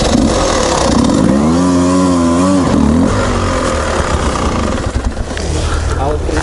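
A 200cc motorcycle engine runs loud and close, with its pitch swinging up and down as the throttle is blipped. It then settles into a rough, steady roar.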